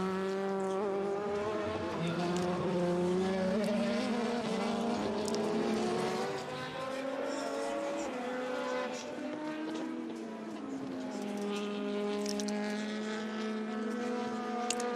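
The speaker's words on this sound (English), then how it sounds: "Some of the couple of cars coming into the pits, including the Rebellion" Race cars at the 2014 24 Hours of Le Mans entering the pits, including the Rebellion, with loud, sustained high-pitched engine whines rising and falling steadily throughout.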